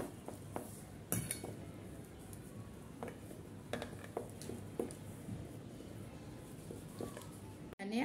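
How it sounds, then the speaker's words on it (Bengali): Boiled potatoes are mashed with a salad cutter in a bowl, giving soft, faint squishing and scraping with occasional light clinks of metal against the dish, in a quiet kitchen. "সালাদ কাটার দিয়ে আমি এরকমের ঘষে ঘষে সম্পূর্ণ আলুগুলো ম্যাশ করে নিচ্ছি।"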